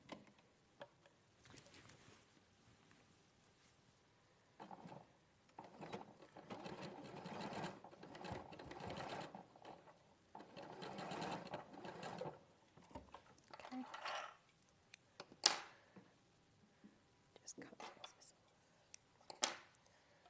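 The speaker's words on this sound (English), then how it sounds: "So you just put the two ends together and you'd stitch standard 1 centimetre seam allowance just to create the loop." Sewing machine running a standard 1 cm seam to join the two ends of a bias loop, heard in several quiet bursts of whirring stitching with pauses and handling noises between them.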